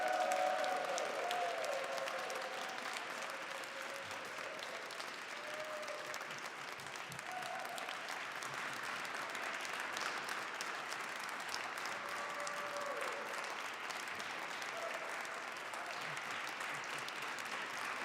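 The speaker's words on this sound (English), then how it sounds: "Ruby, can we have a round of applause for all the folks that led us through the" A church congregation gives a sustained round of applause that carries on steadily for the whole stretch, dense and even, with faint singing-like tones drifting in at the start.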